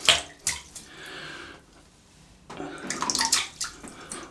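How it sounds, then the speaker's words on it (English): A large Stirling Kong shaving brush works Cella soap into a wet lather, giving squelchy, splashy swishing strokes in two bursts separated by a quieter pause, close and fairly loud. "let's whip up this Cella with this brush"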